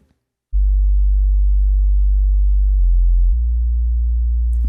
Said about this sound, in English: I put a square and a saw wave together, and I've just rolled off all of the highs with a Moog 24 low pass filter